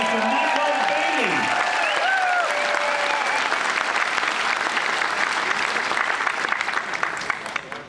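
A large reception crowd applauds Royal Caribbean's president and CEO Michael Bayley with loud, continuous clapping, while an announcer's voice trails off over the first few seconds before the applause carries on alone and fades at the end.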